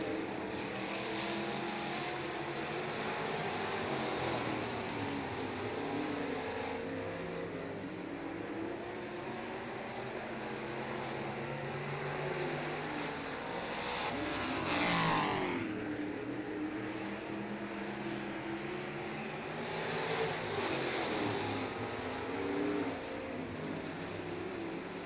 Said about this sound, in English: Once again, nose to tail for second spot is the double zero of Divine.